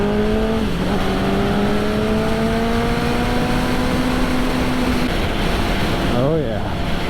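Aprilia Tuono 1000R motorcycle riding along a road through long sweeping bends, its engine droning steadily and loudly with a rising then falling pitch, shifting briefly near the end over constant wind rush.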